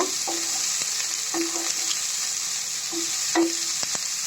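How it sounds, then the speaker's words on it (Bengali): Onion fries in a pan with a loud, even sizzle throughout, broken by a few spoon scrapes and taps against the pan. No voices. "এখন আমি পেঁয়াজটা একটু ভেজে নেব।"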